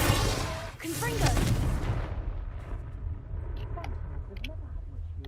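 A Confringo blasting spell explodes in the video game Hogwarts Legacy, a loud rumbling burst at the start that slowly fades, with voices and game sounds around it.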